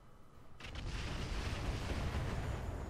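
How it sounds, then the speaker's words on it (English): Weapon fire and explosions in the Roguetech mech battle game: a heavy, rumbling blast begins just after a quiet start, followed by a sustained, loud roar of explosive fire. "Wow, nice shooting, man"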